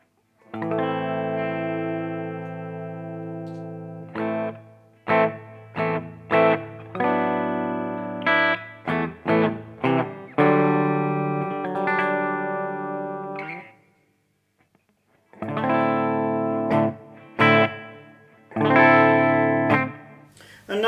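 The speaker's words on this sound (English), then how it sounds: "Now I'm going to put on some reverb and delay," Electric guitar played through a Tech21 Fly Rig 5 effects preamp pedal with reverb and delay, sustained chords and picked phrases with ringing tails, loud and close, with a brief pause midway.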